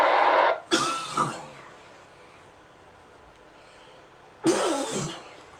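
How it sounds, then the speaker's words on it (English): A coughing fit comes in harsh, close bursts, with two heavy coughs at the start, a long quiet gap and then another loud cough, heard over a radio link. "I'm having a cough attack up in here, and I can't hardly catch my breath"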